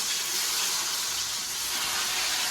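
Food sizzles and hisses in hot oil in a home kitchen where the pan was heavily oiled, a dense continuous crackling fry heard close and steady throughout.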